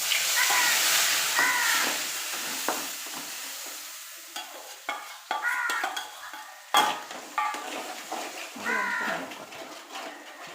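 Crushed ginger, garlic and green chili sizzle in oil left from frying fish, a bright steady crackle broken by clinks and scrapes of a spoon stirring the pan.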